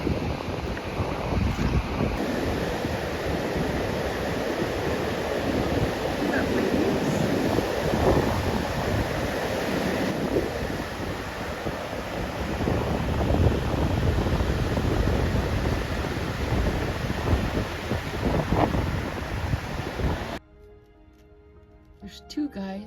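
Wind roars across the microphone at a beach in Kingsburg, Nova Scotia, with surf washing underneath in a continuous loud rumble. The sound drops abruptly near the end.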